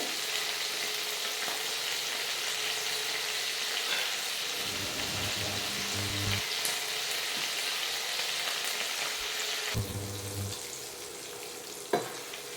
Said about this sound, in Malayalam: ഇതെടുത്ത് നമുക്ക് ഇതിനകത്തിട്ട് ഒന്ന് ഫ്രൈ ചെയ്തെടുക്കാം.